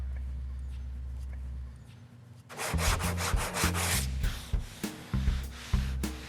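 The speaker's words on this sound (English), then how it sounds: "we're gonna go to a fresh piece of 80 because we want the sandpaper to do the work, not muscle" Fresh 80-grit sandpaper is rubbed by hand over car body work in a series of rhythmic, raspy scrubbing strokes that start after a quiet pause and sound close and fairly loud, with no talk.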